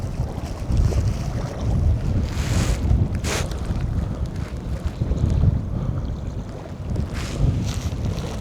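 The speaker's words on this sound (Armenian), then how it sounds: "բայց շատ ուժեղ քամի է" Strong gusting wind buffets the microphone out on Lake Sevan, a steady low roar with surges and slight water motion beneath, near and loud throughout with no talk.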